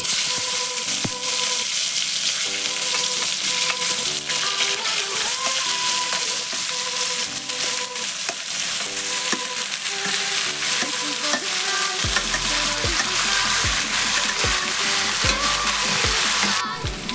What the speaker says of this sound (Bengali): এই যে এঁচোড়টা আমি এই তেলের মধ্যে ভেজে নেব।